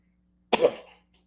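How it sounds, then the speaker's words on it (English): A single harsh cough from a person with a cold, close to the mic, followed by a brief faint throat sound, otherwise silence. "I got a cold. That's why I'm, coughing the way I am."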